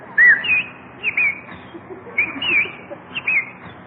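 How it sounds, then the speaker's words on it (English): A bird on a lawn, played as a radio sound effect, chirps in a string of short, bright whistled calls in irregular bursts, fairly close and clear over a soft background hiss. "Jack, look at that beautiful bird on your lawn"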